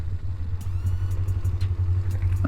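Suzuki GS500 motorcycle engine droning steadily while riding and shifting down through the gears, a continuous low rumble close to the mic with slight surges in pitch.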